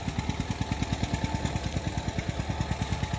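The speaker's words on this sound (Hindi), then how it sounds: "काफ़ी पुराना ट्रैक्टर है।" A rough, rapidly thumping old tractor engine runs at a steady idle-like rhythm, close and continuous, with a mechanical chug throughout.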